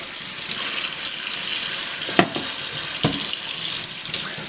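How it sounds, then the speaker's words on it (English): Tap water gushes steadily into a bowl while chicken gizzards and liver are rinsed, a loud, close, continuous hiss with a few brief splashes and knocks of the bowl. "And just wash them off"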